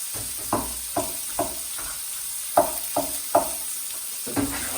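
Cucumber and other vegetables stir-fried in a pan for sweet and sour chicken, with a steady sizzle broken by repeated knocks of a utensil against the pan, roughly every half second, close and moderately loud.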